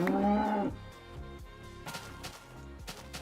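A cow in the Minecraft video game gives a loud, low moo that lasts about half a second and then stops, leaving quieter game background sounds.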